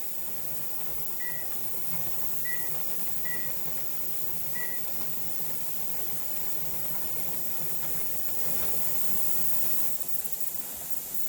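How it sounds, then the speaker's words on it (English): Steady, continuous hiss of steam venting from a pressure canner processing homemade chicken broth, close and unbroken for the full stretch, with a few faint short beeps early on. "it has vented for 10 minutes with the steam coming straight steady out of here"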